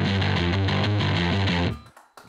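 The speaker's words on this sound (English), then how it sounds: "And now let's hear again the first drive," A bass guitar played through an overdrive pedal gives a thick, gritty, distorted riff of repeated low notes, loud and up close with no talk, then cuts off abruptly into a short noisy tail.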